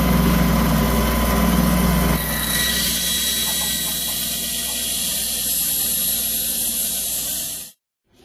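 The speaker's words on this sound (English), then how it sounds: "Alright, the top is cut on the bandsaw." A bandsaw cuts through a wooden hand plane tote, a loud, steady whirring hiss with a grinding edge that runs continuously and then cuts off suddenly near the end.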